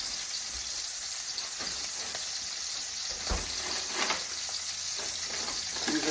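Frozen California-style vegetables (carrots, cauliflower and broccoli) frying in a pan, a steady crackling sizzle with a few louder pops and stirring scrapes, no voices.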